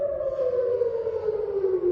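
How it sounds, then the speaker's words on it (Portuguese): An air raid siren wails in Israel during rocket attacks, a single loud sustained tone slowly falling in pitch, heard alone without talk. "A sirene está tocando aqui."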